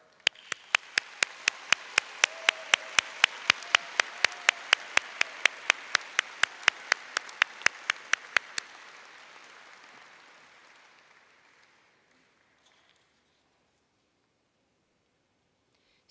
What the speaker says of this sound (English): Please join me in applauding these students' hard work.